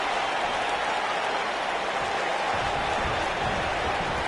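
Passionate arena crowd in a WWE wrestling video game, a steady broadband roar of cheering and noise that holds at constant loudness throughout, with no voices speaking over it.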